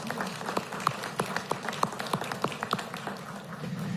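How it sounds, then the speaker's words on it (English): Scattered audience clapping at a governor's welcome event for Afghan refugees, individual claps distinct and uneven, fairly faint and thin with a murmuring room behind. "can we give a round of applause for our armed service people and the Afghanis who stood with them in Afghanistan?"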